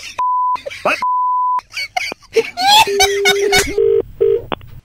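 Several short electronic beeps sound in a row, then a quick series of telephone dialing tones, mixed with brief bursts of voice and noise.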